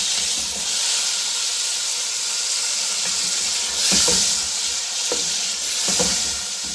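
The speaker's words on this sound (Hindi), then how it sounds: "इसको अब हम इतना भूनेंगे कि दही का पानी जो है वो सूख जाए।" Chicken and yogurt fry in a pan for yakhni pulao, giving a steady sizzle and hiss with a few soft stirring scrapes near the middle and end, close and moderately loud with no talking.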